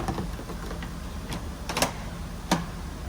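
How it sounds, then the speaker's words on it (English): A few sharp plastic snaps ring out at irregular moments as clips fit into slots on an Audi RS3, two louder clicks standing out over faint background noise with no talking. "Hear that snapping? Just fit right into the slots up front."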